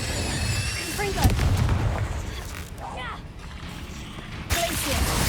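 A Confringo blasting spell is cast in Hogwarts Legacy, with sharp explosive bursts and crackling impacts amid combat noise and a spoken incantation over the din.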